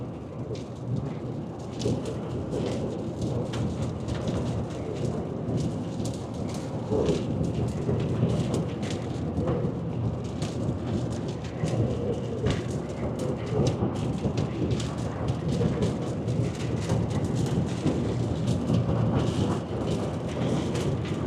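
Severe thunderstorm during tornado-watch weather, heavy rain pounding surfaces without letup while thunder rumbles and rolls repeatedly, loud and close, with no speech.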